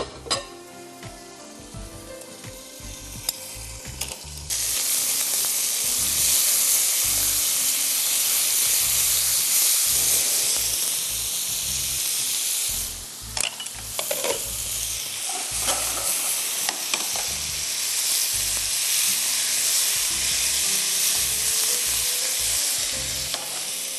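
Chicken pieces sizzle loudly in a hot pan, a steady close hiss that swells after a few seconds, with brief stirring or scraping and no talking.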